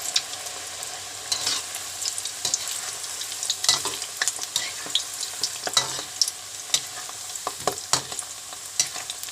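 Sausage frying in hot oil in a pan, a steady bright sizzle with frequent crackles and spitting pops scattered throughout, close and continuous with no voices.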